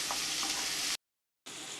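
Chopped green chili sautés in an oiled pan, giving a bright, steady sizzle close by that cuts out briefly to silence before the frying resumes.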